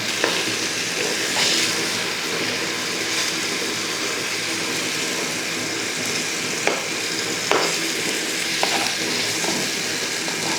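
Kerala-style fish fries in hot oil with a steady, loud, close sizzle and crackle, with occasional sharp pops and light stirring or turning sounds throughout.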